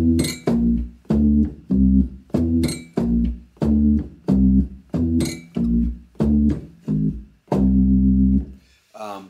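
Organ bass pedals play a low line moving in major thirds, a repeating figure of short, punchy notes in a steady rhythm, ending on one longer held note, loud and close.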